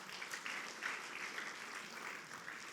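Church congregation at a Sunday service claps together, a faint, steady wash of hands with a loose rhythm, distant and even throughout.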